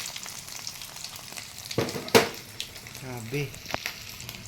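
Dried fish (tuyo) fries in oil that darkens after a single use, giving a close, crackling sizzle with sharp spatters, while a voice briefly exclaims.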